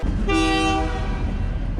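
A train hauling a large metal watermelon sculpture on a five-mile ride to the Mississippi River in Muscatine blasts its horn in one loud, rich sustained tone over a constant deep rumble of rolling cars.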